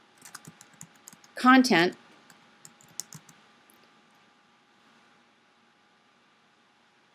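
Keys tapped on a computer keyboard while text is entered into a table on a website page. Light, scattered clicks run through the clip, interrupted by a brief spoken word near the start.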